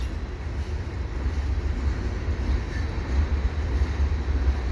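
Steady low rumbling of a CN westbound freight train with hopper cars passing at Falaise St Jacques, a constant rolling drone with no break.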